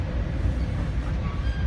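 Steady rumbling roar from inside a moving Metra commuter train in a no-horn zone, travelling at around 40 to 50 mph, loud and continuous with faint squeals and no voices.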